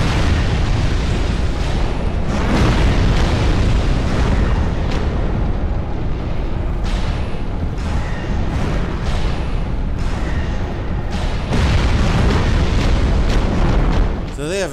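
Explosions in the video game Dark Souls 2, a loud continuous stream of booming blasts and bursts packed together with little pause, under occasional talk.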